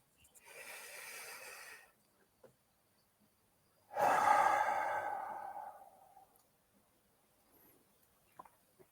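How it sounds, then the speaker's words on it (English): A deep breath at the start of a guided meditation: a quiet, drawn-in inhale lasting about a second and a half, then a pause and a longer, louder exhale that fades out. No talking. "So I'm going to take a deep breath in."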